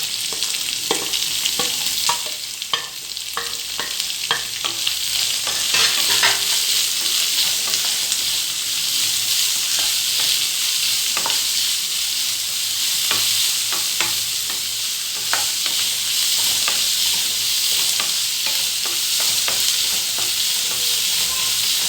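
Onion sautéing in hot oil with ginger, green chilli and curry leaves for a potato bonda filling, loud, continuous close-up sizzling with frequent clicking stirs of a spatula against the pan.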